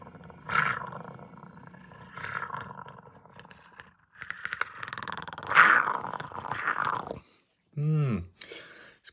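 A whip toy gives a big-cat roar effect, several rough growling bursts of moderate loudness with a crunchy texture and short pauses between them, heard on its own with no talk.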